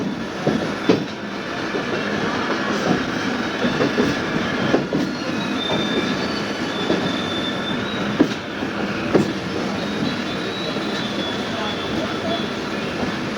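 Steady rumble of an electric train rolling out of Sealdah station, with rail clatter and occasional wheel squeals, and faint voices in the background throughout.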